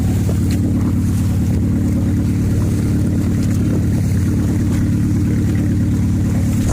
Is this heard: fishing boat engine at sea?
yes